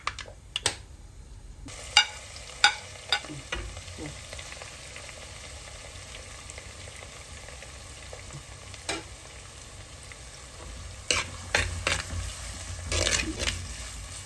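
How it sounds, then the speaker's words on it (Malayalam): Scattered sharp pops and crackles from mustard and whole fenugreek seeds bursting in hot oil, irregular and close, over a low steady sizzle, growing busier toward the end. "ആ എണ്ണയിൽ തന്നെ നമുക്ക് ഇച്ചിരി കടുക് ഇട്ട് കൊടുക്കാം നമ്മുടെ കടുകൊക്കെ പൊട്ടുന്നുണ്ട്"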